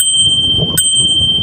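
A bright bell rings out in one steady, sustained tone over engine-like rumble, with a brief click partway through.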